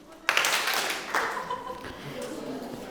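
An audience in a hall claps once together on request, a sharp collective burst followed by a softer second wave and fading murmurs.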